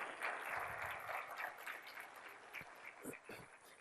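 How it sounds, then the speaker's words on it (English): An audience at a welcoming session applauds postdoctoral fellows, faint and distant clapping that thins out toward the end, with some voices mixed in. "So a round of applause for our current fellows."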